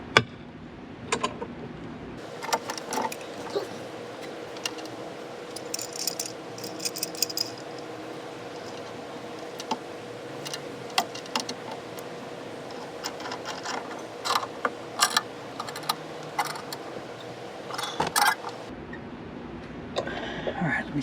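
Intermittent ratcheting clicks from a socket wrench turning a fitting on the awning of a 2018 Tiffin 37PA motorhome, close and irregular in short bursts over a low steady background hum.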